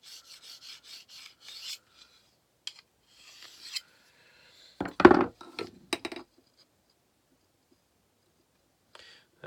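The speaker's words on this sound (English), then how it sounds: "field sharpener, you can use it to hone" Tracker style knife drawn across a field sharpener, a quick series of faint rasping strokes followed by scattered scrapes and one louder grinding pass, with quiet gaps between.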